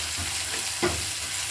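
Grated ginger and green chillies frying in a hot pan, a soft steady sizzle with a brief stir near the end, heard close with no talk.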